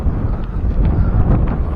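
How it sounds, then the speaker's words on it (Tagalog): Strong wind buffets the microphone in an open outdoor spot at Vermosa, a steady low roar running throughout with faint rustling above it and no talk. "sobrang hangin dito"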